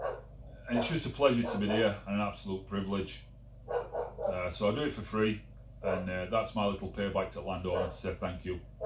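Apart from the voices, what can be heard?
dog barking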